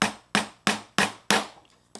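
Five sharp, evenly spaced hammer strikes punch through hard rubber to make rivet holes, each a loud close crack that decays quickly.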